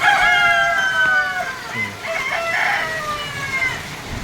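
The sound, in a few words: chickens, rooster crowing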